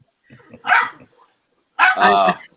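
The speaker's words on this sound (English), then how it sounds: "Dog in the background." Indoor dog giving two loud, close barks, a short yelp first and then a longer, harsher bark with a pause between, no other noise in the room.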